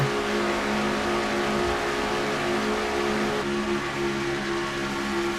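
Race car engines in a stock car racing video game drone loudly and continuously, a steady buzzing multi-car roar with slight pitch shifts as the pack runs at speed in the All Star race.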